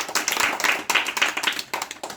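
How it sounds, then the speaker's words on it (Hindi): Children clapping together in a classroom in a dense, steady burst of applause lasting about two seconds, moderately loud and close, with no talking over it. "इसके लिए भी ताली बजाओ, छोटी के लिए"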